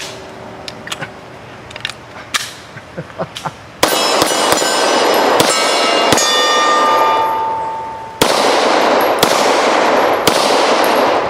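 Pistol shots with hollow-point rounds striking steel target plates: a few quieter sharp cracks, then loud close shots that each ring out with a metallic clang and a long, bright ringing decay.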